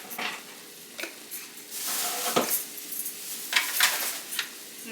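Masala frying in a hot pan for chicken curry, with sizzling under repeated scraping strokes of a spoon against the pan as it is stirred, close and fairly loud, with no talking.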